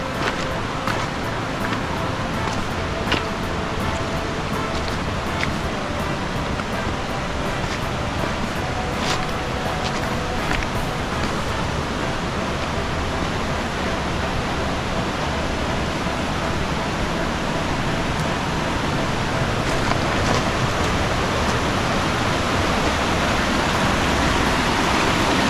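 A river in an Oregon rainforest rushes steadily nearby, a broad, constant roar of flowing water with no breaks, filling the whole scene at a loud level.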